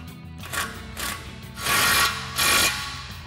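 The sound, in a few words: ratchet with 21mm socket tightening tie rod nut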